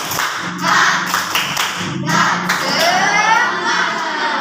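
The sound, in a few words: class doing a rhythmic spirit clap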